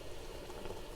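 Water drizzles into a pot of simmering Jamaican curry chicken with potatoes, giving a soft, steady patter and bubbling hiss that stays faint and continuous throughout.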